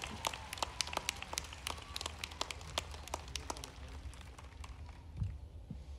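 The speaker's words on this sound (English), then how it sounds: "Let's give Jose another round of applause." Scattered hand claps from an audience at a 2018 Los Angeles Mission College commencement ceremony, sharp individual claps at first that thin out and fade toward the end, with no talking.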